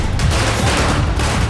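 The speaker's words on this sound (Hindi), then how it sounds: "जमकर हुई आतिशबाजी" Fireworks and firecrackers burst in dense, rapid crackling volleys during street celebrations by cricket fans in Kanpur, India, loud and continuous with no talk.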